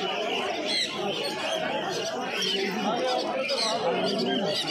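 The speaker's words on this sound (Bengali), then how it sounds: "তো সম্রাটদার কাছে কী কী পায়রা কালেকশন আছে এক এক করে সবই দেখাবো" Pigeons at a pigeon market coo and flutter amid a dense crowd, with people chattering throughout over the birds, busy and continuous.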